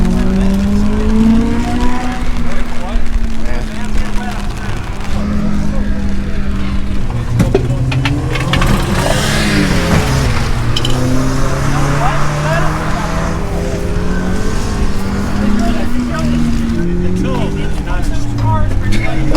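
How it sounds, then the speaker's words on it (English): Buick Grand National and Cyclone cars at a rainy drift event, engines droning and revving continuously and loudly, with people talking over the noise. "A Grand National and a Cyclone"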